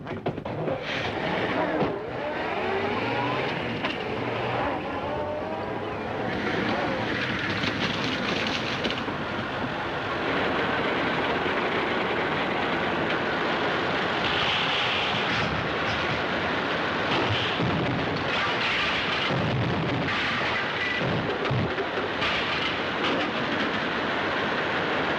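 A 1936 Earthworm crawler tractor driving along a soft dirt road gives off a loud, continuous mechanical rumble and rhythmic clattering that runs unbroken for the whole stretch, with a coarse, noisy old-film quality.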